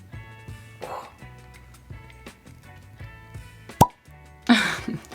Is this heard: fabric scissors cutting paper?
no